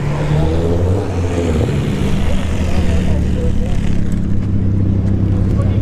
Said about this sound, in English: All right, Genesis G70 versus a Q50.